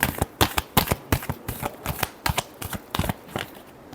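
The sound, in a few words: shuffling tarot cards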